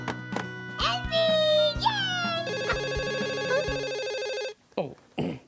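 A telephone rings in a Hindi children's educational programme: a steady, buzzing electronic ring lasting a couple of seconds, framed by quick character voices before and a spoken reaction after.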